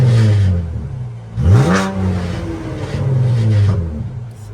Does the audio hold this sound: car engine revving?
yes